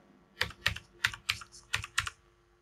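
Captcha being typed on a computer keyboard: seven crisp, close keystrokes in an uneven rhythm with short pauses between them, heard alone in a quiet room without any talking.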